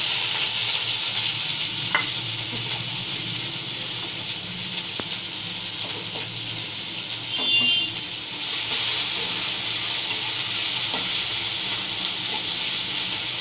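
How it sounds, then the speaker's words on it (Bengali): Chopped onions frying in hot oil for a chicken curry, a loud, dense, steady sizzle that holds for the whole stretch with faint stirring clicks underneath, close up and uninterrupted by talk. "ইতিমধ্যে আমার তেল গরম হয়ে গেছে, আমি পেঁয়াজ কুচিগুলো"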